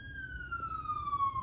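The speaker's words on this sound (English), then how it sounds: "ambulance." An ambulance siren sounds in the distance as it passes, a clear wailing tone sliding steadily downward in pitch over low background rumble.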